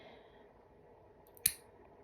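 A single sharp clip of nail clippers trimming a guinea pig's clear nails, one brief snap rising alone above a quiet room background.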